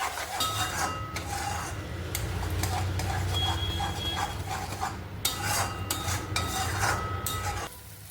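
Masala for shahi paneer fries in a pan, with a low continuous hiss. A spoon stirs and clinks against the metal in an uneven rhythm throughout.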